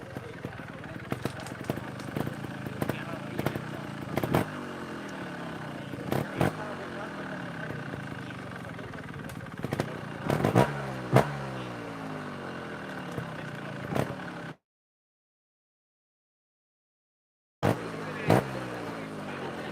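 Trial motorcycle ridden through a rocky section at a TrialGP event in Andorra, engine blipping and revving in short bursts with spectator chatter around, briefly cut to silence near the end.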